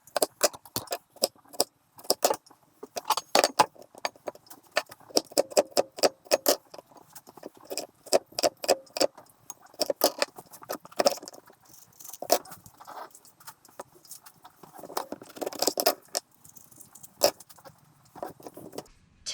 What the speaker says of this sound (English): But I'm going to continue slicing up my tomatoes, okay?